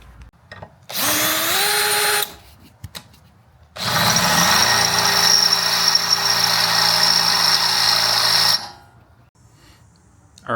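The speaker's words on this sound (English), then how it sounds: "just need to drill these threads out, and we should be able to have the seat installed" A power drill with a 5/16 bit bores out threads for a bench seat swap in a 1968 Ford F100, two bursts of high whining motor, a short run then a longer one, each spinning up and cutting off, separated by quiet.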